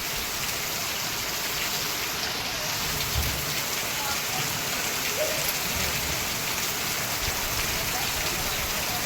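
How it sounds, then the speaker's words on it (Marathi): Steady, dense rainfall patters continuously on surfaces, a constant hiss with no break and no voices. "दादा आणि शिवा भिजतायत पाण्यामध्ये दोघं पाऊस आला आणि भिजत आहेत"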